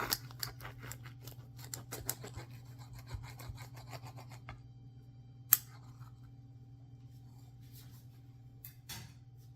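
Knife slicing through an egg and cheese sandwich on sourdough bread at a kitchen counter, a close, dry rasping scrape in quick repeated strokes over a steady low hum, then a single sharp tap.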